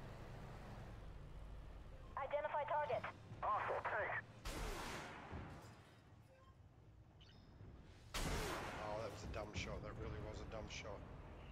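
Two heavy booming tank cannon shots in Armored Warfare, one midway and one later, each a loud broadband blast with a trailing rumble, over a steady low engine drone and bursts of radio-like chatter.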